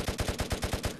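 Machine gun fire in a VRChat zombie survival game, a rapid burst of about nine evenly spaced heavy shots close up, stopping abruptly at the end.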